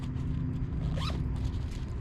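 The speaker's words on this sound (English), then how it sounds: "You also have another zipper right here." A zipper on a Calcutta 3700 Squall fishing backpack is pulled open in one quick, close rasping stroke over a steady low background hum.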